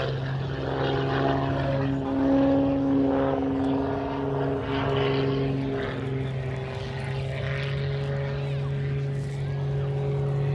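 Jet aircraft at an air show put out a steady, droning engine roar with sustained tonal hums, holding at an even loudness and some distance for the whole stretch.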